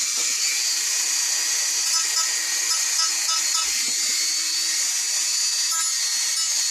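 Small high-speed rotary power tool shaving down heavy spots on styrene, a continuous shrill whine held steady throughout at close range, with a brief dip as the bit bites into the plastic.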